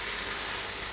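A pancake fries in a pan just after being flipped, giving a brief, steady, close hiss of sizzling with no voices.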